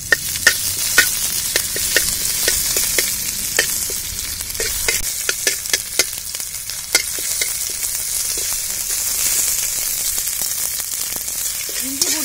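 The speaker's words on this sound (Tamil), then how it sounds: "இஞ்சி பூண்டு அரைச்சது போட்டு வணங்கிக்கலாம்." Ground ginger-garlic paste fries in hot oil with curry leaves in a pan, a steady loud sizzle throughout, broken by repeated sharp scrapes and knocks of a spoon stirring against the pan.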